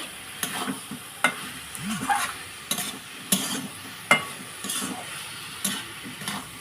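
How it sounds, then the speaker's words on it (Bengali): Ash gourd curry with spices and soaked red lentils stirred in a pan, steady sizzle under a series of spoon scrapes and knocks against the metal, close and fairly quiet, no talking. "এবার একটু নাড়াচাড়া করব মশলার সঙ্গে সবজিটা ভালোভাবে।"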